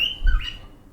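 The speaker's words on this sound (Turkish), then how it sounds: "Bu arada kuşlarım ötüyor." A single bright chirp from a pet bird indoors, close and clear, sliding in pitch, then quiet.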